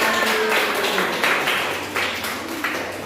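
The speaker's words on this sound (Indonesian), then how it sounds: "tepuk tangan untuk kita semua" Classroom of schoolchildren clapping their hands together, a dense fairly close patter of many claps with a few steadier group beats, sustained before gradually fading.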